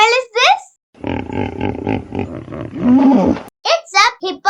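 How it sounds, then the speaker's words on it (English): A hippopotamus lets out a deep, rumbling roar lasting a few seconds, loud and close, set between short bursts of a speaking voice before and after. "It's a hippopotamus."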